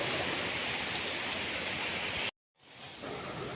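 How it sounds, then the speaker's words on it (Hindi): Roaring water of Lingmala waterfall near Mahabaleshwar, a loud, steady broadband rush that cuts out abruptly for a moment, then returns slightly fainter. "पानी का शोर तो आप यहीं से सुन सकते हो कितना ज़ोरों से यहाँ पर शोर हो रहा है पानी का।"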